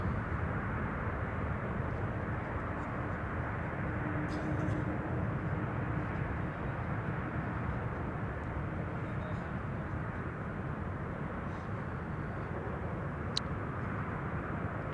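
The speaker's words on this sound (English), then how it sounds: "PHBVA taking off to Lima in Peru" A passenger jet takes off at Amsterdam Schiphol Airport with a broad, continuous engine roar that stays loud and steady from start to finish, heard from the airfield with no voices.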